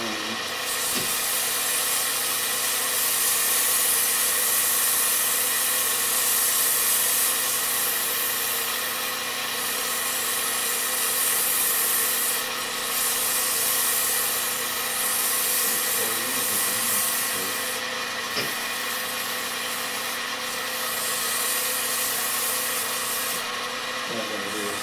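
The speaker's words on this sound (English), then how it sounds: "we'll take and sand this down" Steady, continuous abrasive whirring of a power sander working on wood, fairly loud and unbroken, with faint rubbing scrapes over a constant motor hum.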